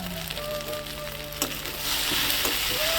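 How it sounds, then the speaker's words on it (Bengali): Fried eggs being stirred into a spiced curry sauce in a hot pan for a Bengali village-style dish, with steady close sizzling and frying crackle, a brief scrape of stirring, and the hiss growing louder toward the end. "ডিমটা দিয়ে ভালো করে নাড়াবো।"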